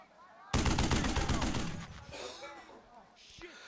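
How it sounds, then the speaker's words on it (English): Battle gunfire from the WWII strategy game Burden of Command: a sudden dense burst of rapid rifle and machine-gun fire that fades into scattered distant shots and echoes. "So we'll just start taking shots."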